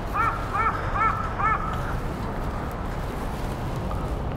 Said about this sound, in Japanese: カラスがあんなとこにいる。